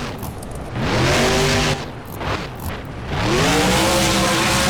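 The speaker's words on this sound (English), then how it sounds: "Engine roaring again as they head for the center ramp." A monster truck engine in BeamNG Monster Jam freestyle roars and revs hard in two long surges with a short dip between, loud and close, its pitch climbing as it accelerates toward a ramp.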